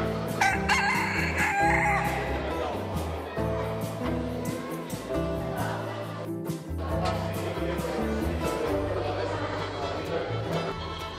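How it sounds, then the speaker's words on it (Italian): A rooster crows at a poultry show in Sicily, clear against a busy hall full of clucking birds, with someone talking over it. "Io lo adoro, questo galletto di ciuffata olandese"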